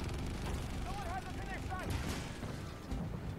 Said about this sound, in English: We are taking heavy fire, boys.